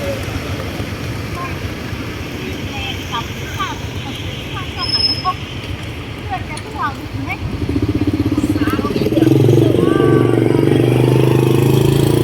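Motor vehicles rumble at the Luang Prabang riverside port, where cars and bikes cross the Mekong by boat; a steady engine drone grows louder and heavier toward the end over broad outdoor ambience.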